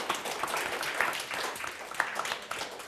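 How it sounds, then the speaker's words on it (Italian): Audience applause on an Italian television show, a brief burst of mixed clapping at moderate level with a few sharper individual claps standing out. "meritate tutti un applauso, facciamo un applauso"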